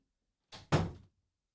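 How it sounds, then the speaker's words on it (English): An indoor door is pushed shut, a short scrape followed by a solid thump at close range in an otherwise quiet room. "Hold on, I'm going to shut this door."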